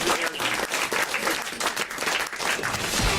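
A studio audience claps loudly and densely on a French radio comedy show, a full burst of applause that runs throughout with no talk over it.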